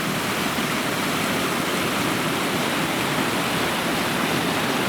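Bubbs Creek, a mountain stream, rushes in a loud, steady broadband wash of flowing water, heard up close without voices.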